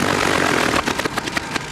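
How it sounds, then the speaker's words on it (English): An ailing boat outboard motor running rough near a shark sanctuary in Fakarava, a loud steady engine drone that breaks into sputtering, irregular bursts and knocks partway through. "my motor starts making some horrible sounds"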